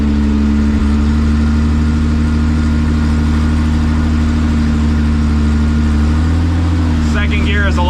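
A Chevrolet Camaro engine lugs low in second gear during a storm, a steady deep drone running throughout, loud and close, with a brief higher whine near the end.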